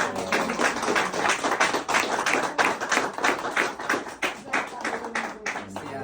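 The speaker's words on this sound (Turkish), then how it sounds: "Yok mu bir alkış çiftimize?" Guests at a Turkish engagement and promise ceremony clap for the couple, a steady run of close, crisp hand claps filling the room from start to finish, with some voices mixed in.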